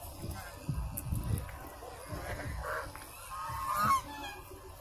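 Geese and other waterfowl foraging at Sanjay Lake, giving scattered honks at moderate distance over a soft outdoor background with faint murmuring.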